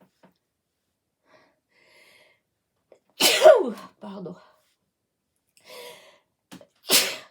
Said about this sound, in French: oh zut, je vais éternuer